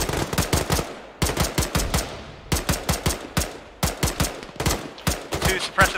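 Sustained automatic suppressive gunfire in a military video game, rapid bursts of loud shots in quick clusters repeating across the whole stretch, close and dominant.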